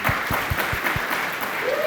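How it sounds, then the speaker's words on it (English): Warm applause from an audience at a precision medicine forum, a steady dense wash of clapping welcoming a birthday guest to the stage, with a few low thumps near the start and no talk. "Warm applause."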